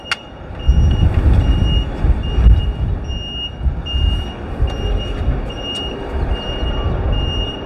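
A truck's reversing beeps repeat at a steady interval, faint over a continuous rumbling engine in an underground setting.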